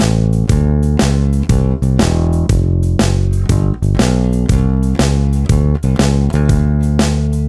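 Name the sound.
12 bar blues bass turnaround at 120 BPM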